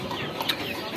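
A chicken kept in a separate box gives a few soft, faint clucks over low background noise.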